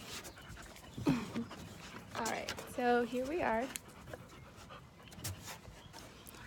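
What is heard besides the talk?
dogs panting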